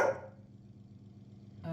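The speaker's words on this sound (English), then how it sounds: "Sorry about the dog." A dog barks indoors at the start and again at the end, with quiet room tone in between; the barks are moderately loud and close.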